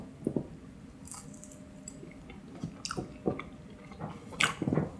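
Someone chews Chick-fil-A French fries dipped in sauce, soft wet chewing and occasional crunchy bites close to the mouth, quiet and intermittent without speech.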